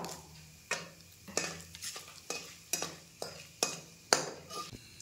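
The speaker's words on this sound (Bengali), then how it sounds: "আর ফোড়নে দেবো শুকনো লঙ্কা, জিরে" Dry red chillies, cumin seeds and bay leaf sizzle in hot oil in a kadai as a spatula stirs them in about eight sharp, regular scraping strokes over a steady crackle, close and alone.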